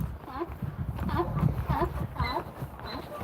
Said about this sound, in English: The donkeys are making noises.